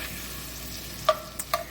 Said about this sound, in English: So we just added our oil to that, and we're going to give our shrimp a stir again.